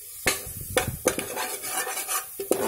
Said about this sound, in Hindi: इसे फिर से चम्मच से चला लेंगे।